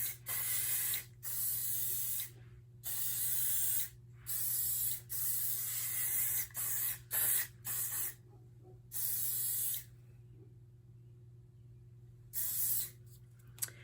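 Repeated bursts of aerosol hairspray, about ten short and long hisses separated by brief pauses, close and fairly loud over a low steady hum.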